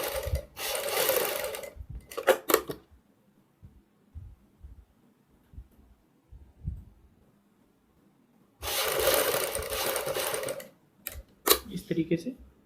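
A sewing machine stitches white lace onto a suit neckline in two sustained whirring runs, one at the start and one near the end, with handling noises and short taps in the quiet gaps between.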